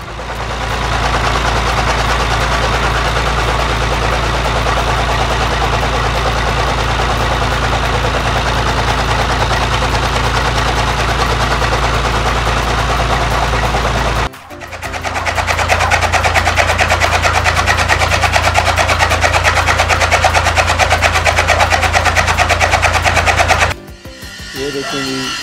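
An engine-driven toka fodder chopping machine runs at close range in a village during chara cutting, a loud, steady, rapid knocking drone that breaks off briefly twice before resuming.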